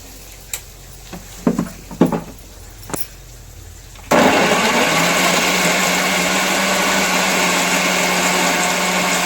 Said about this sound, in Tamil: தக்காளி அரைச்சிக்குவோம்